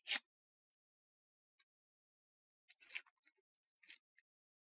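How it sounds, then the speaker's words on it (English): Scissors snip through cardboard in three short, crisp cuts, one at the start and two close together later, separated by near silence in a quiet room. "And now I'm going to cut the cardboard."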